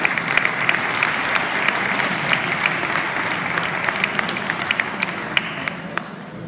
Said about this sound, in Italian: al quale direi di fare subito un bel applauso